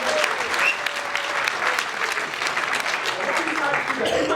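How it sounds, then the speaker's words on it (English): A room full of conference attendees bursts into a steady round of applause, dense clapping held at an even level for several seconds with faint voices beneath. "Everyone give him a massive round of applause for his"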